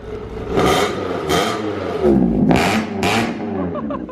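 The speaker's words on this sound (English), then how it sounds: "Give it a little rev with it quiet and then with it open" Car engine revved at the Hoonigan shop, first with the exhaust quiet and then open, giving four loud bursts of revving over a steady idle, close by.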